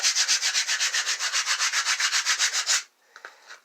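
A sanding block is rubbed by hand over a small workpiece for a connector adapter build. About twenty quick, even back-and-forth strokes come close and loud, then stop, leaving a few faint handling knocks.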